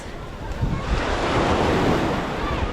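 Sea waves break and wash at a beach in Puerto Galera, a loud steady roar of surf mixed with strong wind buffeting the microphone, with no clear voices.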